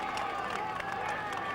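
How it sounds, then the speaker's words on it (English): A Belgian roadside crowd gives polite applause as three Italian team riders climb during the 1994 Flèche Wallonne cycling race. Scattered clapping and murmuring crowd noise fill the background beneath a commentator talking. "They're politely applauding the three riders coming up for the Italian team"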